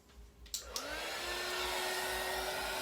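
Hair dryer heating a resin pour, switched on after a couple of faint clicks and then blowing as a steady, moderately quiet whir.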